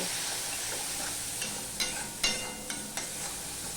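Spice paste with chilli powder and a splash of water fries in a pan for a vegetarian kofta curry, a steady soft sizzle broken by a few sharp stirring scrapes near the end.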